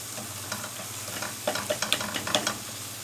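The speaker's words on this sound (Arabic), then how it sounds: "البسلة خدت تشويحة مع البصل ومع البهارات" Peas sautéing with onions and spices in a pan, a low continuous sizzle broken by a quick run of sharp stirring clicks and scrapes in the second half, close up with no voices.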